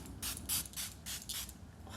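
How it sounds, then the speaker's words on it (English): Setting spray misting onto a face in about five quick, forceful pumps, each a short breathy hiss, close and alone with no voices. "Okay, that's a strong mister"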